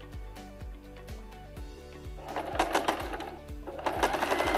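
Sewing machine running straight stitches, close and steady, with a regular rapid thumping needle rhythm and a rising whirr as it speeds up in the second half, no talk.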